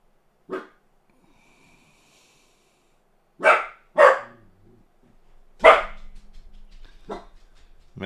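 A dog barks several times, sharp single barks spaced apart with quiet gaps, fairly close, followed by some faint movement and breathing.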